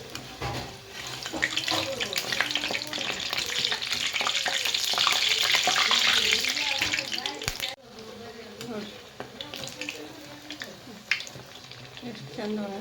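Wheat flour vadas frying in oil make a loud, dense, hissing sizzle that drops in level partway through. A voice talks over the frying.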